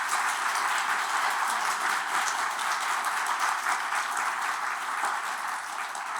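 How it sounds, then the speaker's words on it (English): Steady audience applause at an evening event at Symphony Space, a dense, even wash of clapping from a large crowd that holds at a constant level throughout. "give them all a round of applause"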